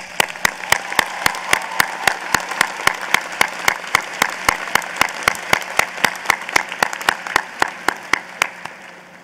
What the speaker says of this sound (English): I think a round of applause is most fitting